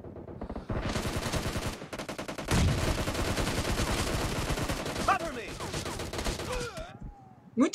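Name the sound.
gunfire in video game PUBG Mobile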